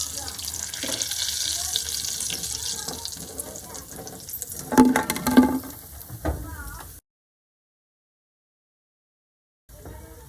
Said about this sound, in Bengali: আবার আমি এই তেলের মধ্যে কয়েকটা ভেজিটেবিল চপকে ছেড়ে দেবো